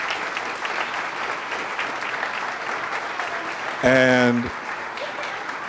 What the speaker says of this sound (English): Please continue to clap for these youngsters.